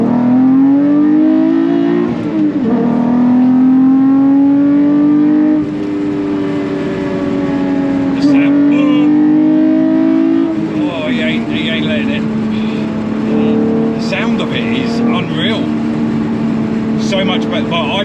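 A Toyota MR2 with a swapped-in 3.5 V6 accelerates hard, its loud, close engine note climbing in pitch through several gear changes, with brief dips between pulls.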